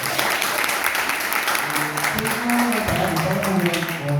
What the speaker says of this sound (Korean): 전현희 최고위원님 다시 한번 큰 박수 부탁드립니다